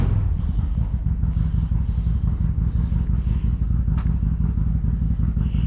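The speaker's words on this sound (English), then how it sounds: "Yeah, that's that guy with the Harley. Probably going for a ride." A Harley-Davidson motorcycle pulls away from a campsite in a state park, its low engine rumble steady and fairly loud throughout, with some light clatter mixed in.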